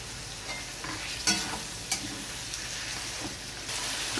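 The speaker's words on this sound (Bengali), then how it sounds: "আদা আর জিরেটা একটু ভাজা ভাজা করে নিয়েছি" Close, steady sizzle of a ginger and cumin paste frying in a pan, with a couple of sharp scrapes from stirring and no talking.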